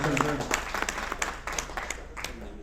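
Scattered, moderate audience clapping congratulates the mayor at a rum company's financial report event, individual claps distinct under murmured voices and room noise.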